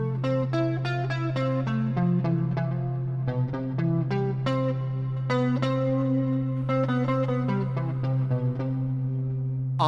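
Keyboard sustaining a low C drone while rapid arpeggiated notes ring out above it, wrapped in echo, chorus and distortion-like effects, loud and continuous throughout with no talking.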